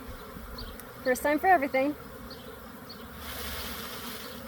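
A swarm of honey bees leaving a hive, their steady low buzzing filling the air, with a short spoken remark near the start over the hum.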